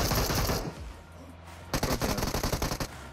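Automatic gunfire in PUBG, a burst of rapid shots, a pause, then a longer stuttering volley of close, loud rounds.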